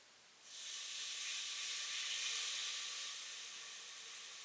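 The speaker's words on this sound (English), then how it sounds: "Why am I using wine? We're going to deglaze the pan." Cheap wine poured into a hot pan to deglaze it while making spaghetti sauce, setting off a sudden loud steamy hiss that holds steady and slowly fades over several seconds.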